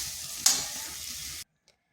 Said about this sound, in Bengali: এইভাবে নেড়ে নেড়ে সিমটাকে পুরো শুকনো করে নিচ্ছি